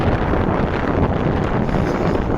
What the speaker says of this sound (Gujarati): તો બી પવનનું જોર ઘણું છે.